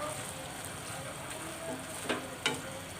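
Spices and keema fry in a pan, a soft steady sizzle with two brief stirring scrapes near the end, faint and close.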